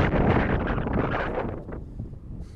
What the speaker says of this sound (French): Le vent commence à bien se lever sur notre position.